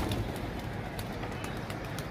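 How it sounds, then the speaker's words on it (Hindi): Pigeon cooing close by in a steady stretch of soft, low calls over a constant background hum, with no voices. "कबूतर निशानी कर रहा है लेकिन कबूतर बैठ नहीं रहा"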